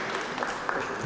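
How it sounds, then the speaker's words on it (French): A public debate audience on laïcité applauds a speaker's sister as she comes forward, a steady wash of clapping filling the brief moment with no one talking. "on l'applaudit s'il vous plaît"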